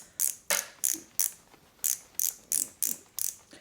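A twist-up foundation makeup dispenser is cranked, giving about ten crisp, evenly spaced ratcheting clicks, close and fairly quiet.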